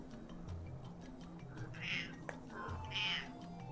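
Two high, drawn-out cat meows about a second apart, close by, over a low background hum and faint ticking.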